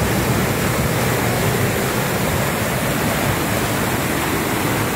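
Water rushes over a drinking-water project dam, a dense, continuous roar of heavy flow heard close and loud with no voices.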